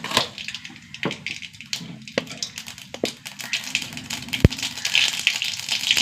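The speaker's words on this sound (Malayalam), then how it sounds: "കുറച്ച് കടുക് ഇട്ട് കൊടുക്കുക." Mustard seeds splutter and pop in hot coconut oil, a close stream of irregular crackles and sharp snaps over a faint sizzle, with no voices.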